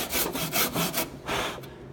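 A hand saw cuts through wood in rapid, rhythmic back-and-forth rasping strokes, close and fairly loud, with no talking.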